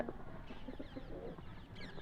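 Soft, low pigeon coos repeat in a steady murmur, fairly close, with no talking.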